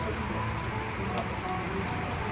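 Heavy rain pours during a strong thunderstorm at an Orlando waterpark, a dense, steady hiss of drops on surfaces filling the whole moment without pause.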